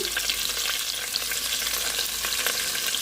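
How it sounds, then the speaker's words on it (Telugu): Everyday onions fry in oil for radish sambar, a dense, even crackling sizzle held close and steady for a few seconds with faint stirring ticks, no voices. "ఇప్పుడు ఉల్లిపాయలు వేసుకుందాము"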